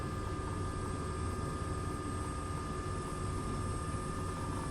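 A Robinson R66 helicopter sets down among snowy Cascade Range mountains in Microsoft Flight Simulator 2024, its turbine whine and rotor drone steady and continuous with no breaks, heard alone without any voices.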